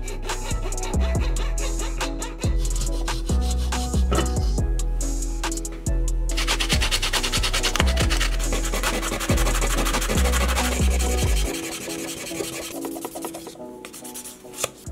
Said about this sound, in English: We can go ahead and finish cutting these segment lines here.